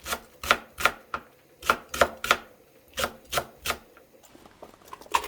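A knife chops green onion rapidly on a cutting board, crisp, close taps in quick uneven bursts with a short pause near the end.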